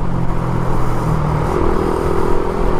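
Raider 150fi motorcycle engine fitted with a 36mm throttle body on a stock ECU, running loud and close with a rough, uneven, ragged drone and slight pitch shifts, no voices.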